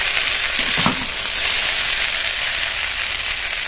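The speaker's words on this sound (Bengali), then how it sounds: "চাউমিনটা দেওয়ার পরে কাঁচা চাউমিনটা আগে 2 মিনিট ভেজে নেব।" Raw handmade chowmein noodles fry with vegetables in a pan, a loud, continuous close sizzle with a brief stirring clatter early on.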